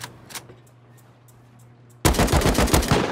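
Bandits fire at players in the video game Rust: near silence with a few faint ticks, then a sudden loud burst of rapid automatic gunfire rattling continuously to the end.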